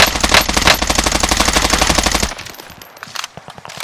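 Rapid automatic rifle fire in the video game Warzone rattles out in a loud, dense, fast burst for about two seconds. A few scattered, quieter shots and clicks follow.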